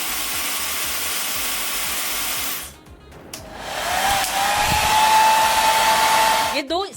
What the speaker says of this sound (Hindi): ये हेयर ड्रायर मेरे दूसरे हेयर ड्रायर के मुकाबले थोड़ा साइलेंटली ऑपरेट होता है